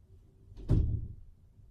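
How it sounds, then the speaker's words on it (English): Door shut indoors: a single dull thunk, fairly close, with a short muffled rumble after it in an otherwise quiet room. "And shut my other door."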